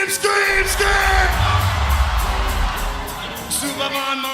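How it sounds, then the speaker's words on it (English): A concert crowd screams and yells on command in a loud, sustained roar of voices, with music and shouting mixed in beneath it. "Now fucking scream, scream, scream."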